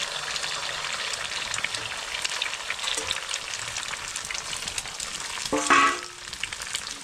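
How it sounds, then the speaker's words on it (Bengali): Two eggs fry in oil in a pan and are pushed around, a steady close sizzle with spoon scrapes and a short louder burst of crackling near the end. "এখন এই ডিমটাকে এইভাবে ঠিক মাঝখানে রেখে এইভাবে নাড়াচাড়া দিয়ে ভাজতে হবে"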